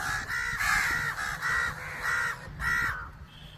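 Crows caw in a repeated series of loud, close calls, about six harsh caws in quick succession.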